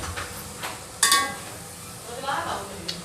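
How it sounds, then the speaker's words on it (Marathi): Eggs are stir-fried in a pan for egg biryani, with short scraping and clinking strokes of a spatula against the metal and a soft sizzle, close by, over a few seconds. "अशा पद्धतीने अंडे परतवून घ्यायचे ना."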